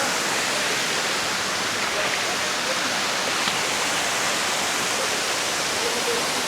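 Batlag Falls roars in a steady, full rush of falling water that drowns out everything else.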